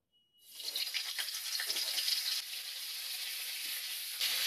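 Cauliflower pieces frying in hot oil, a sudden loud sizzle that starts abruptly and keeps hissing steadily, close to the listener.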